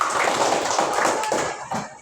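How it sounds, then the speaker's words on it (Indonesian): Students in a classroom clap for a presenting group in a short burst of mixed clapping, with voices heard among it. "Oke, tepuk tangan untuk kelompok 2."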